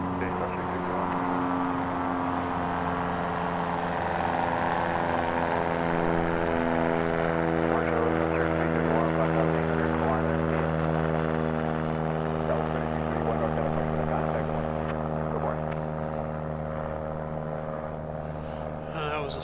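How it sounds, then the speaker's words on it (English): Cessna 172 airplane taking off from runway 17 left at Reno, a droning propeller engine with a steady buzzing tone that swells slightly and then eases, heard from a distance. "That was a Cessna 172, just left 17 left."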